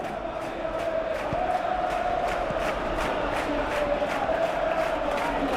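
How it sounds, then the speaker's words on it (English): A stadium crowd in an eFootball match keeps up a steady roar and chant in the background, a low, even wash of massed voices with faint rhythmic pulses and no distinct commentary. "you can feel and hear how the crowd are reacting to all of this"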